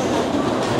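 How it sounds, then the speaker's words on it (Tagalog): Brief stretch of a light rail (LRT) car in motion: a steady low rumbling roar with a metallic hum, close and continuous. "So guys, pasakay na tayo ng LRT."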